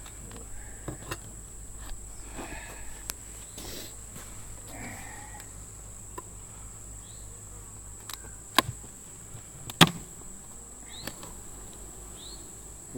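Bees buzzing around hives, a faint steady hum low in the mix with scattered louder passes and occasional sharp knocks nearby.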